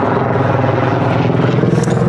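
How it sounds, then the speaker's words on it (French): A helicopter passes overhead by the water near Philadelphia, a loud, steady, throbbing rotor drone that stays close throughout. "il y a un hélicoptère au-dessus qui passe là."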